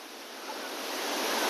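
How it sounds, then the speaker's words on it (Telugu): Jormallu village waterfall in Nepal gives off a close, steady hissing roar of falling water, brief and unbroken, with no talking. "వాటర్ ఫాల్ ఇదే వాటర్ ఫాల్ అండి జోర్మలు గ్రామంలో ఉందండి"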